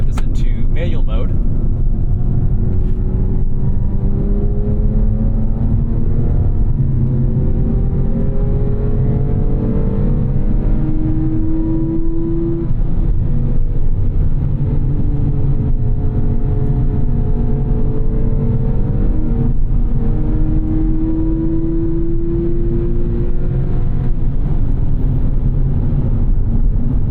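Porsche 911 997.2 GTS flat-six revving in Sport Plus with exhaust valves open, a steady loud engine drone with rising and falling harmonic sweeps as the throttle builds, heard close throughout with a voice speaking over it.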